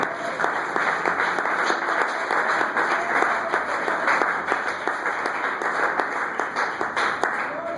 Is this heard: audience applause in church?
yes